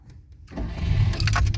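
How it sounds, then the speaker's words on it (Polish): A Polonez 1500 Borewicz fitted with a new starter motor cranks briefly and catches at once, rising from quiet into a loud, close, rough idle with rattling bursts. "Oto no jak odpala Polonez 1500 Borewicz na nowym rozruszniku"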